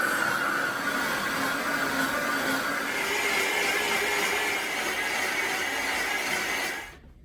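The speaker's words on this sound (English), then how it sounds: "So when you're blending this, also do not put your hand here, it will burn." A kitchen blender whirs steadily for about seven seconds while pureeing roasted butternut squash, carrot and coconut soup, its loud broadband motor roar holding even before cutting off abruptly at the end.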